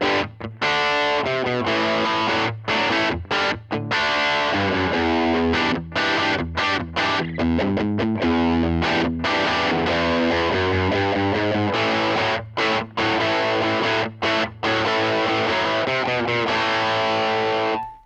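Distorted electric guitar through a Line 6 Helix 10-inch speaker cab sim plays a loud, continuous rock riff of chords and punchy palm-muted stabs with brief gaps, heard alone for about eighteen seconds.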